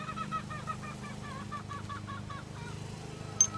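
Polish chickens with crested heads clucking and calling in a flock, a rhythmic series of short nasal calls near and fairly faint over a steady low background hum, with a brief sharp squawk near the end.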